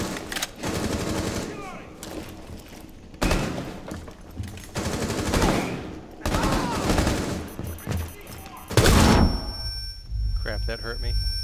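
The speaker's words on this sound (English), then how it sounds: "He's shooting at me." Rapid machine-gun fire in Rainbow Six Siege during a Consulate terrorist hunt, loud bursts broken by short gaps, with a player speaking over the shooting.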